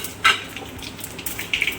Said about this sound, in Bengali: ফোড়নটা একটু ভাজা ভাজা হয়ে যাক।